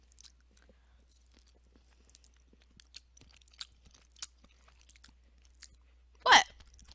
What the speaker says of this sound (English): They'll hear my sounds of munching on spaghetti.